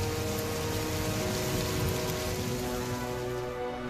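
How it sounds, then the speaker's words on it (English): A wind and rain storm in a Thomas & Friends cartoon scene: heavy, steady rain hiss and rushing wind fill the whole stretch at high loudness, with faint tonal music underneath and no voices. "Salty and Fergus were fighting their way back through the wind and rain."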